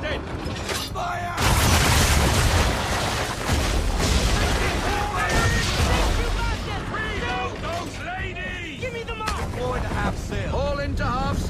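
Ship cannons fire a broadside in the Assassin's Creed III naval battle: a sudden loud boom erupts, followed by sustained crashing, shattering blasts and rumbling, with voices sounding through the din.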